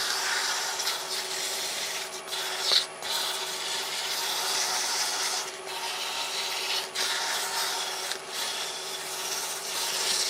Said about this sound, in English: I'm putting quite a lot of pressure on with the sanding here